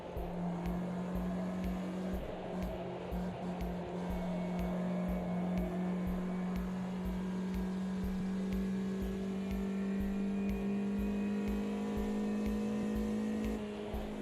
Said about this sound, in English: Pushing it to the rev limit.